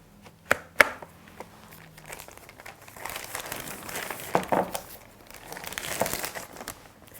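The plastic carry bag of a Potette Plus portable potty crinkles and rustles softly, with a couple of sharp taps early on and then bursts of crumpling plastic handled up close, quiet overall.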